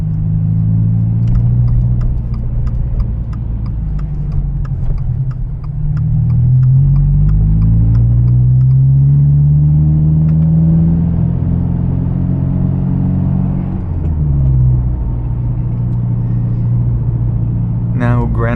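Modified Subaru WRX driving at night, a steady low engine rumble from inside the cabin with rising and falling tones as it accelerates and shifts, under someone talking throughout.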